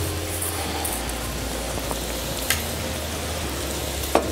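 Calamari rings frying on a hot pan, a steady dense sizzle with faint crackles and pops, close and continuous without any talking.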